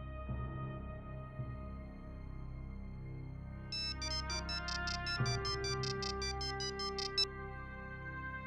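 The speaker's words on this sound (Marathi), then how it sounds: "बेल वाजते." A repeating electronic phone ring, bright tonal bursts over a steady background hum, ringing several times in a row with no talking.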